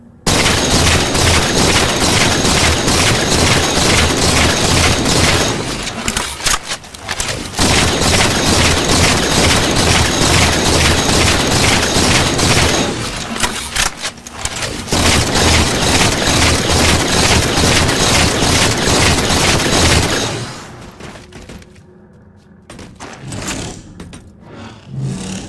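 Halo 4 weapons, including the Promethean Light Rifle, fire one after another in a rate of fire comparison: long dense bursts of loud continuous gunfire broken by brief pauses, ending in quieter scattered shots.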